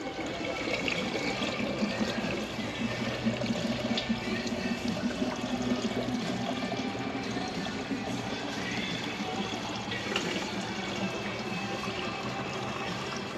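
Coolant drains from a Duramax 6.6 radiator into a bucket, a steady gurgling, splashing pour that runs without a break at close range.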